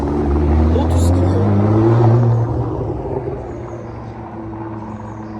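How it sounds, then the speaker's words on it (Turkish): A Ferrari sports car roars past nearby on a street in Bamberg, Germany, its engine rumble swelling then fading away over a few seconds, with a quick faint clink early on. "Bak geliyor bir tane bak. Ne geliyor? Ferrari."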